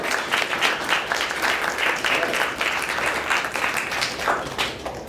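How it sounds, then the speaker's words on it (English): An audience at a convention panel applauds continuously, a dense wash of many hands clapping at steady volume throughout. "give yourself a round of applause"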